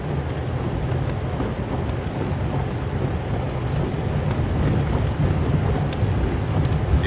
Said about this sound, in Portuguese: Olha, o lado direito, como desce água.